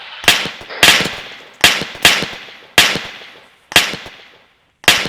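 Rifle shots crack out in Arma, six or seven sharp single reports spaced about a second apart, each followed by a rolling echo tail, carrying a distant, open-air feel.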